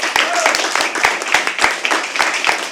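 An audience at a live poetry open mic applauds a first-time performer, a steady wash of clapping with sharp individual claps near the front and a voice speaking over it.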